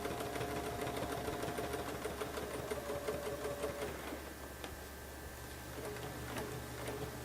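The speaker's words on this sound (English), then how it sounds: "Then we go back up and stitch in the ditch to get to the third arc." A sewing machine runs steadily at close range while stitching Baptist fan quilting arcs along a template with grip tape underneath. Its even mechanical whir carries on with small ticking variations and no talk.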